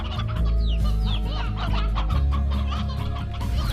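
Chickens cluck in the video game Slime Rancher, a busy overlapping chorus of clucks and squawks over a constant low droning game soundtrack, steady and close throughout.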